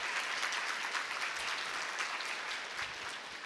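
Audience applause at a diversity forum talk, a dense, steady round of clapping from a crowd that holds at even loudness for the full stretch, with no voices over it.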